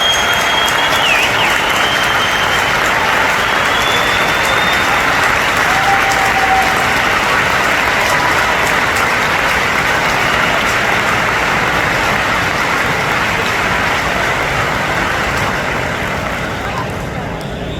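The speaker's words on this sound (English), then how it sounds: "Let's give it a round of applause." Sustained applause from a large crowd at a rally, dense and steady clapping that runs throughout at full strength before easing slightly at the end.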